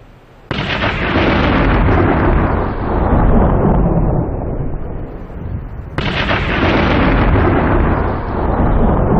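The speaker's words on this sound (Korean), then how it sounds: "두 개의 번개가 동시에 떨어집니다." Loud, sustained rumbling thunder with crackling lightning strikes, two heavy booming rolls in sequence, the second starting abruptly midway, filling the whole stretch without any voices.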